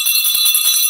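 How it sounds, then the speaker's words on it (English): A bell rung loudly and close, with bright sustained metallic ringing overtones sounding continuously through the moment. "I'm ringing the bell to that because that is mind relieving."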